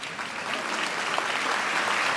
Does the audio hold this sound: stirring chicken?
no